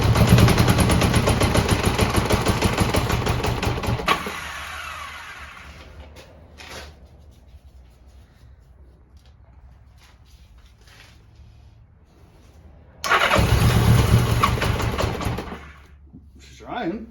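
A 40-year-old Honda GL1100 motorcycle engine cranks and fires with loud rapid popping and sputtering, falls to a faint rough stumble as it tries to idle, then roars up briefly again before dropping off.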